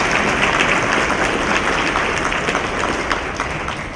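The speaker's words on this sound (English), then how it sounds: "Can you give them a round of applause?" An audience gives a full round of applause at a sports event in St. Louis, dense and loud crowd clapping sustained throughout and easing off slightly toward the end.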